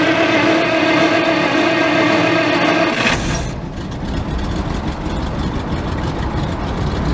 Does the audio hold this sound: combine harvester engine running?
yes